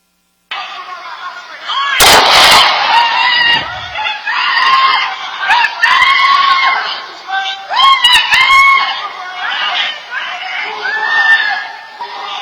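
Loud, strained yelling from several voices plays back on a courtroom recording, broken by a harsh distorted burst early on, then continuing in agitated bursts with emotional shouting throughout.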